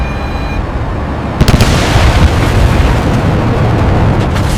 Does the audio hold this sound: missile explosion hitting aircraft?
yes